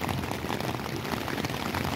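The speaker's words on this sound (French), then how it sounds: "Après l'orage, maintenant la pluie." Steady rain falling at night after a thunderstorm in the Chevreuse Valley, a dense, even patter of drops with no voices.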